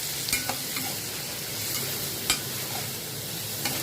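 Garlic and onion sautéing in oil in a pan for a millet tomato rice, a constant close sizzle with a few light stirring taps, no speech.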